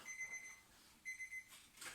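A small egg timer rings during an older adults' fitness workout class, giving two short bursts of high, buzzing chime with a pause between them, faint and heard alone with no talk.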